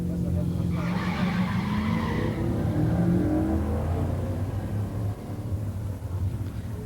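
A 1966 Satellite 426 Hemi automatic and a 1970 Mustang 351 four-speed launch in a drag race, their engines roaring loudly and steadily with tire noise and a rising whine, constant loud engine sound throughout.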